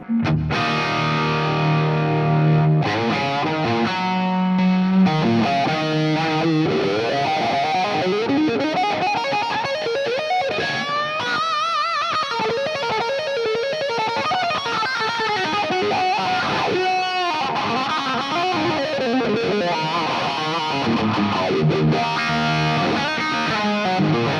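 Electric guitar solo with distortion and a big, epic reverb pedal, sustained bends and singing lead lines washing into a long ambient tail, loud and continuous throughout with no talking.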